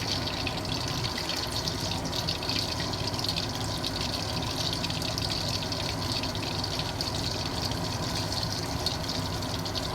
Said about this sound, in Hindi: इसी तरह से हम सारे जो है कोफ्ते इसमें ऑयल में डालते रहेंगे